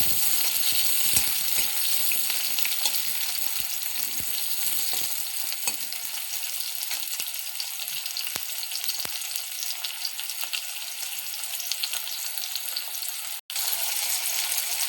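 Chopped tomatoes frying in a pan, a dense steady sizzle with scattered crackles and stirring scrapes, loud and close, briefly cut near the end.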